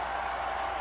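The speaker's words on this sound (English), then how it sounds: "And the crowd really appreciated that one." Crowd applause at a marble race event, a steady dense wash of clapping throughout, moderately loud.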